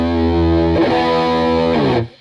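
Electric guitar through an AmpliTube amp model, miked with a single condenser close to the grille at the speaker's edge; distorted, chorused sustained chords change once, then ring out and cut off.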